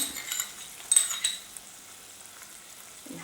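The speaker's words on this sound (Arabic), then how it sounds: "توا باش نحط البصل" Onion frying with cuttlefish in oil in a Tunisian tajine preparation makes a soft, fairly faint sizzle, with a brief metallic clink of utensils near the start.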